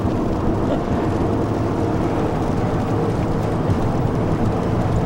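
Rain on a car driving down a highway in Louisiana, a dense steady roar of road noise and rainfall heard from inside the cabin, loud and unbroken, with no talking.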